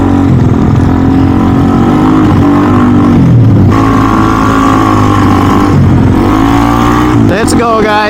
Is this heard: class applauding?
no